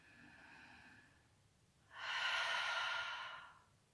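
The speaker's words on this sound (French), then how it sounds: "expire par la bouche" A long, soft exhale through the mouth during yoga breathing follows a quieter inhale, airy and close, rising for about two seconds and then fading.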